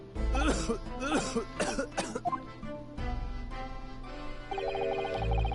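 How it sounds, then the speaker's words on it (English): Several harsh coughs in quick succession over an Ace Attorney game soundtrack, followed by a throat clear and steady musical tones with a low rumble. "Except for your cough."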